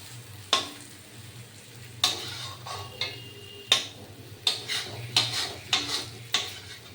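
Cabbage ghonto, a vegetarian cabbage dish with tomato, cooking in a pan while a utensil stirs it in a steady series of about nine sharp scrapes and clacks over a faint hiss, with no talking.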